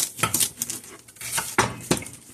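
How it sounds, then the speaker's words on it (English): A knife chops through crisp celery on a cutting board in a few quick, uneven crunchy strokes, close and clear, with no voices. "let me get to cutting this celery"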